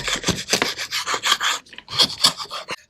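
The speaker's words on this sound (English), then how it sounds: "Sometimes you gotta scrape like this." A scraper rasps repeatedly across a wall surface during an acoustic fabric track install, a quick run of close, loud, rough strokes with a short gap before a final burst.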